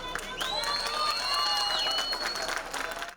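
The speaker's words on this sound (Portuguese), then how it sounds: "Os vizinhos aplaudiram o trabalho dos bombeiros" Neighbours applauding and cheering firefighters after a rescue from a collapsed house in Rio de Janeiro, a distant crowd clapping steadily with shouts and a whistle-like tone rising above it.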